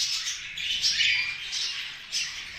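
Budgerigars kept for breeding squawk and chirp in a continuous busy chatter, several birds calling close by with no talk.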